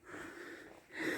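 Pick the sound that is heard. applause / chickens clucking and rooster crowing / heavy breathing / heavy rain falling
heavy breathing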